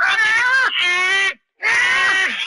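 A voice imitates a cat, giving two drawn-out, whiny meows with a short pause between them, loud and close.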